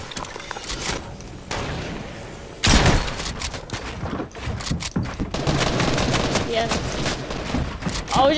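Rapid bursts of gunfire in a Fortnite match, dense and loud with sharp cracks crowding the scene, running continuously from the middle onward under a voice talking.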